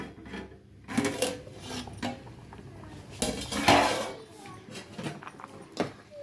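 A spoon stirs coconut rice in a metal pot, with irregular scraping and clanking strokes against the pot close up and quieter rustling between them.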